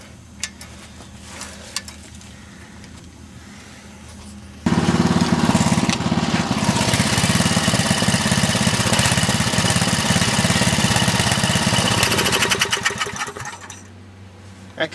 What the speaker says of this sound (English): I'll get it started and see if I can hold the camera.